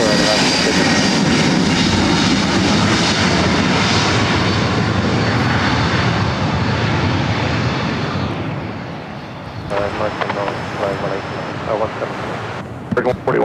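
A Lufthansa Airbus A380 on approach to land at LAX produces a loud, broad jet roar that holds for several seconds, then fades as voices talk near the end.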